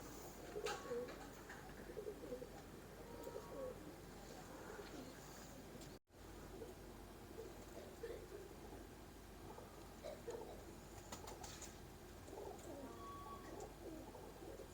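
Soft cooing from teddy pigeons rises and falls quietly amid faint background noise, with a brief dropout midway.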